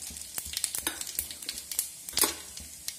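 Cumin seeds (jeera) sizzling in hot oil, with a soft steady fry crackling under sharp irregular pops and spits close by, quiet and with no talking.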